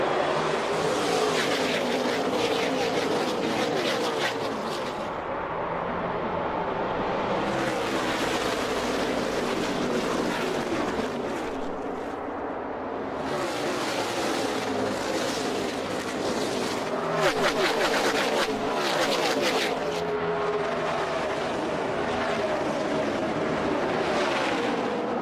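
NASCAR Nationwide Series stock cars roaring together at the green flag start at Texas Motor Speedway, a dense, continuous wall of engine noise with surging waves as the field passes, loud and steady throughout.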